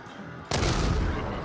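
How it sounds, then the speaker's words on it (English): Grenade blast in the video game Dying Light The Beast, thrown into a clumped group of enemies: a sudden loud boom bursts in after half a second of near silence and rolls on as a dense, sustained roar. "I'm gonna toss a nade in there and see what happens."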